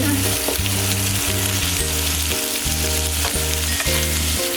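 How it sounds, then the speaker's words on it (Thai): Bacon sizzles loudly in a pan as its own fat renders out for bacon fried rice, a dense continuous crackle with occasional stirring, under background music and without speech. "น้ำมันออกแล้วเห็นไหม อืมไม่ต้องใส่น้ำมันเยอะเพราะน้ำมันในตัวเบคอนมันจะออก"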